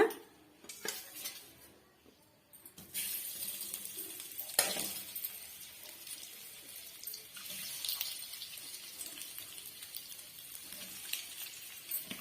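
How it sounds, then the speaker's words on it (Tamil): Eggs frying in a pan with sautéed ingredients, given a gentle stir, a soft steady sizzle with occasional quiet scrapes and a clink, faint and fairly close. "சேர்த்துட்டு ஜென்டலா வந்து கிண்டி கொடுத்துக்குங்க"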